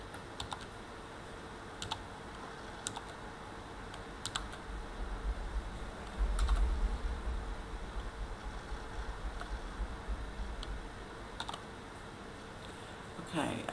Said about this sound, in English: type in the letters and numbers that you can see